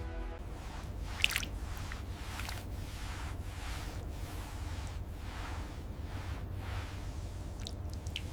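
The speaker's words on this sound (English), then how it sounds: "Notice how the water sheets perfectly off the Rover's surface, leaving no trace of beading." Water rinses off the body of a 1954 Rover 60 car during restoration, a steady soft hiss of spray with faint wet splashes and drips recurring in loose pulses, fairly quiet and with no talking.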